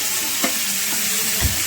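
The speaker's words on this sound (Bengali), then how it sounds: "এই যে আলু ভাজা বসিয়ে দিয়েছে" Potatoes frying in a pan in a home kitchen make a close, steady hiss of sizzling oil, broken by two soft stirring scrapes.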